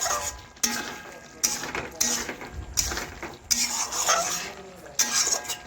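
Chicken is stirred in a kadai while its released water cooks off, giving repeated scraping and rubbing strokes of a spatula against the metal pan, steady and close, with a voice talking over it.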